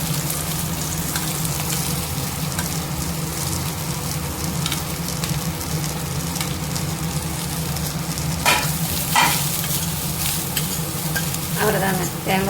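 Grated coconut stir-fried in a pan sizzles steadily and close, with occasional scrapes and taps of a spoon against the pan breaking through the constant frying hiss.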